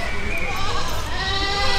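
A goat at a children's petting farm lets out a continuous bleat, heard close and fairly loud over a busy background.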